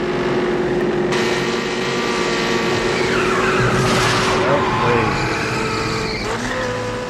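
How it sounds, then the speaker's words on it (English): A V8 Pursuit Special in a film car chase, engines roaring as tires squeal and skid in long sweeping screeches, loud and close with a car passing through the mix. "Yeah, Max is still driving his car."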